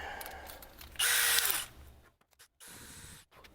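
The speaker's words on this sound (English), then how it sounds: "you may have to drill it with a 9/64 drill bit" A power drill with a 9/64 bit whirs loudly for about half a second drilling a magnesium part, then quieter mechanical handling noises and faint rustling follow.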